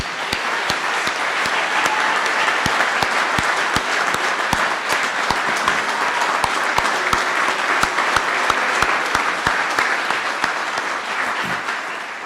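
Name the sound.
audience applause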